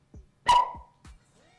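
A barking dog chemistry demonstration in a test tube during a high school reaction lab gives one sharp, whooshing bark with a brief whistling tail, framed by a few faint taps and clicks nearby.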